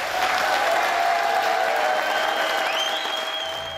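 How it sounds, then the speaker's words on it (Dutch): Sustained audience applause at an outdoor blues festival in Kwadendamme, a dense wash of clapping with a few high whistles that tapers slightly toward the end. "samen met mij een hartelijk applaus te geven aan de man die het altijd hier heeft gedaan"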